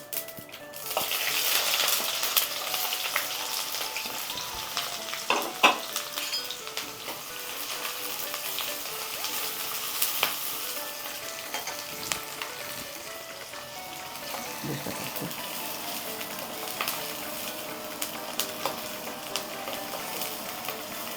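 Two small onions frying in a pan with mustard seeds for a mushroom and potato curry, a steady close sizzle with occasional louder pops and stirring scrapes.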